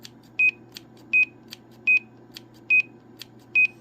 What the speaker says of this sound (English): If you want the Roger beep on with it, then you'll hear the Roger beep through the speaker.